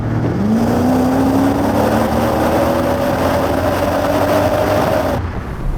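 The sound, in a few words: Mercedes-AMG SL60 engine revving while accelerating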